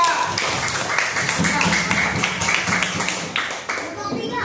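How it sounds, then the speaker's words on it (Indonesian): Classroom students applaud a group after its presentation, a brief burst of clapping mixed with talking and chatter. "Oke, tepuk tangan buat kalian dan kelompok 2"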